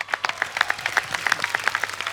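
A studio audience at a TV comedy show claps in a short burst, a quick uneven patter of many hands, close and fairly loud with no talking.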